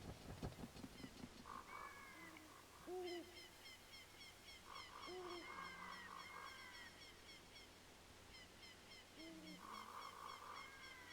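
An owl in the video game Zelda Ocarina of Time hoots in repeated tonal calls, with chirpy synthesized blips and a looping game melody over a faint steady hum.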